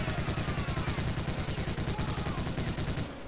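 Sustained machine gun fire in Medal of Honor Allied Assault, a dense rapid stream of shots at a bunker section, loud and continuous before cutting off near the end.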